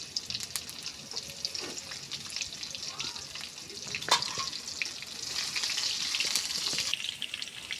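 Chopped garlic, onion and green chillies frying in oil in a home kitchen: a bright continuous sizzle with scattered clinks and a sharp knock near the middle, growing slightly louder toward the end.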